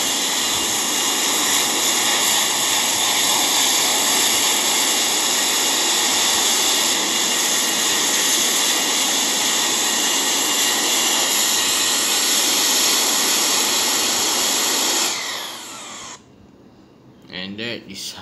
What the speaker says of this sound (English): we need to reverse the thrust in order to stop this plane